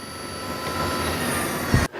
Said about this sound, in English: the noise you're hearing is what this makes at 80 miles an hour going down the highway